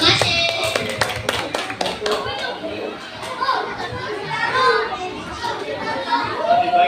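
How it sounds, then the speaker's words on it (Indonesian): Schoolchildren at a primary school recycling awareness event clap together in a burst of quick applause that tapers off into chatter, with an adult voice speaking over the noise. "Oke, tepuk tangan."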